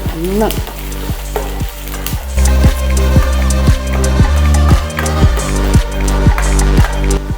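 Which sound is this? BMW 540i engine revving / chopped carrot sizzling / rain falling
chopped carrot sizzling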